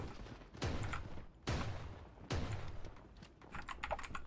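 Three booming shots from the video game Creative Destruction ring out at roughly one-second intervals, each a sharp blast with a short decaying tail, followed by lighter clicking sounds.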